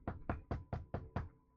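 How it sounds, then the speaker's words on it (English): Six quick, evenly spaced knocks on a door, firm and fairly close, with nothing else heard. "I heard another knock"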